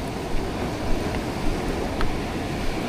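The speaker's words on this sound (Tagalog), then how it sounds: "Lah, laki na ng alo no." Heavy surf pounding the shore at Dinahican, Infanta, Quezon as Typhoon Uwan approaches: a continuous roar of breaking sea waves and gusting wind, with soft rhythmic surges rising every half second or so.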